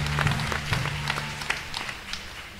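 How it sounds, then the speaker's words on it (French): Applause from a church congregation at a Haitian Catholic Creole Mass, brief and moderately loud, with a low steady hum underneath and sparse claps fading toward the end. "Alors n'a pas accueilli yo avec un gros applaudissement"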